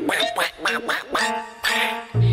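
A duck quacks several times in quick, rhythmic succession, followed by a longer, lower quack, clear and close within a children's television programme.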